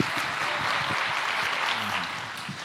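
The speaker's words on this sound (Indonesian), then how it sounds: "boleh kasih tepuk tangan lagi buat Tuhan Yesus kita" A church congregation applauds steadily, a close, continuous patter of many hands clapping with a few faint voices underneath.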